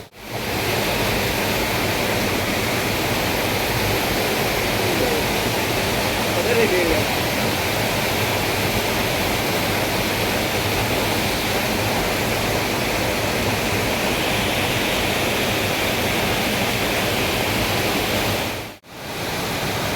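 A waterfall at Savdav roars steadily at night, a dense, close and constant rush that fills the whole scene with hardly any variation apart from one brief dropout near the end.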